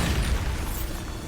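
Bombarda blasting spell explosion in the Hogwarts Legacy video game, a short, loud, low booming burst with rumbling debris throughout.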